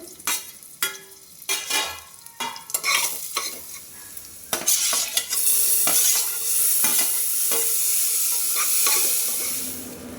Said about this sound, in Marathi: तूप घालून त्यामध्ये थोडा गरम मसाला टाकला आणि त्यामध्ये उभा बारीक चिरलेला कांदा आणि कांदा व्यवस्थित फ्राय झाल्यानंतर टोमॅटो घातलं.